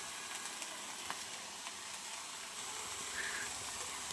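Fern (pako) adobo cooking in a pan, a faint steady sizzle and hiss with light scattered ticks, soft and continuous with no voices.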